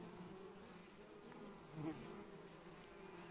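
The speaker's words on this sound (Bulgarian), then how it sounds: "Много жизнени пчели, много пъргави." Honeybees in an opened hive buzz steadily at low volume, a soft, continuous drone that stays even throughout without talk.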